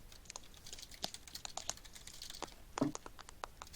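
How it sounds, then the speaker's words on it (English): Close, irregular tapping on a high-quality computer keyboard, with bursts of crisp key clicks and brief pauses and one heavier press near the end, heard alone. "listening to some nice, high-quality keyboard tapping, it's not bad,"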